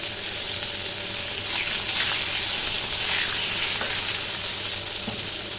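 Pieces of eggplant (begun) sizzle and spit loudly in hot oil in a pan right after fish has been fried, a dense, continuous crackling close by with small pops scattered through it.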